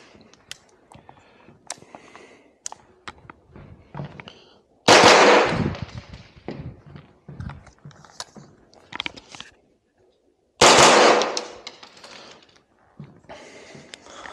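Pistol shots fired weak-handed during a practical shooting safety drill crack sharply twice, a few seconds apart, with quiet handling clicks and a voice talking between them.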